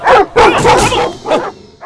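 A dog barks repeatedly during a tense confrontation scene in a Telugu action film, with loud, close barks in quick bursts followed by a fainter yip at the end.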